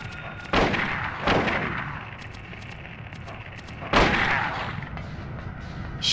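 Gunfire in Silent Hill 1: three loud, sharp shots ring out with uneven gaps between them, each trailing off in a short echoing decay.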